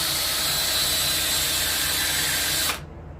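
Grinding on a 351 Windsor engine with a medium-grit stone, a loud, steady, high-pitched whirring grind running unbroken for nearly three seconds and then cutting off abruptly.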